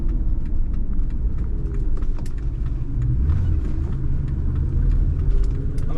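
A 1970 Mercedes-Benz 300SEL 6.3 cruises along a road, its engine and tyres giving a steady low rumble heard close up from inside, continuous and fairly loud with no talk.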